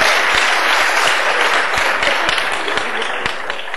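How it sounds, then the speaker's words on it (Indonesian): Steady, dense applause from a crowd at a Cak Nun and Kiai Kanjeng gathering at a university, a continuous wash of many hands clapping with occasional sharper claps standing out. "Tepuk tangan semua."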